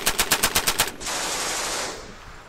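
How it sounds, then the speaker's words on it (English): An enemy 25mm artillery bombardment in a tank simulator game opens with a loud, rapid burst of about seven evenly spaced shots, then gives way to a sustained roaring rumble that slowly fades. "Enemy artillery forces fire bombardment."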